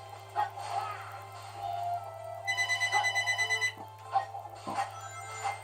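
An electronic telephone ringtone sounds close by while a game plays, a rapid warbling trill repeating in bursts over a steady low hum, with short game noises around it.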